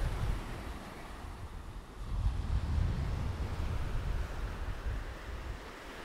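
Strong wind buffets the microphone at Rockley Beach, Barbados, with the steady roar of ocean surf beneath it, a continuous low rushing that swells and eases slightly, with no voices.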